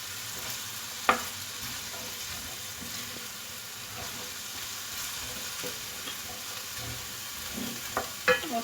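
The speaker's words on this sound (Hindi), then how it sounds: "अब इसमें मैं चने डाल दूँगी। चने डाल के इसको फिर भूनना है।" Chickpeas being roasted with a spiced masala in a pan for black chana chaat, a soft continuous sizzle with occasional stirring clatters and a few sharp utensil knocks near the start and end.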